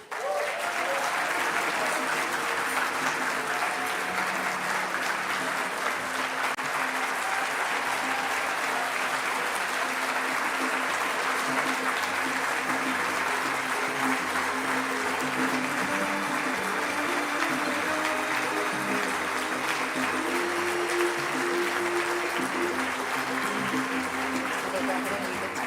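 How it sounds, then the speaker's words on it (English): A large luncheon audience applauding an award recipient, a dense, sustained roar of clapping that holds steady for the whole stretch, loud and enveloping, with no voice rising above it. "join me in welcoming to the stage with a big, thunderous round of applause"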